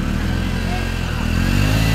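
A motorcycle engine running nearby at a steady mid-pitched idle, rising slightly toward the end, with a voice speaking over it.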